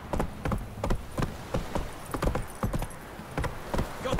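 Hooves of the horse Roach pound in a steady galloping rhythm across ground in The Witcher 3, moderately loud with no talk over them.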